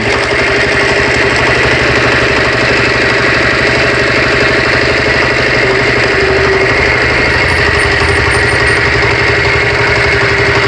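A small firewood-splitting machine runs steadily for the whole stretch, its engine chugging in a loud, continuous mid-pitched drone with a rapid knocking pulse and no pauses.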